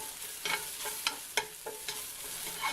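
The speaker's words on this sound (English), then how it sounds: "Put our garlic in, just stir that around for just a few seconds." Garlic being stirred in a pot while making beef stew, a low sizzle broken by several sharp spoon scrapes and taps against the pot in an uneven rhythm, close by with no voices.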